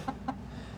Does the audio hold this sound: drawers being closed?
no